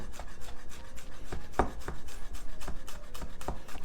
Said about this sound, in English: then very, very finely slice them.